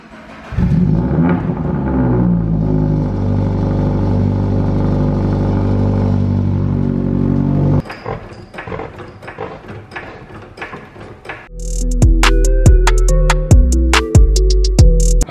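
At a car meet, a car engine holds a steady droning idle, clatters briefly, then roars through several sharp, loud revs close by.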